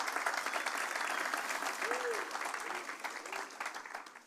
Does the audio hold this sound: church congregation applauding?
yes